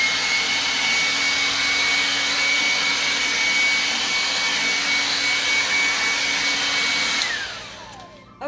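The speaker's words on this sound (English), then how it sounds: "I'm gonna put the blow dryer to it." A blow dryer blasts over wet paint on a canvas, a loud steady whooshing roar held close for about seven seconds with a thin whine running through it, then it switches off and quickly winds down into quiet.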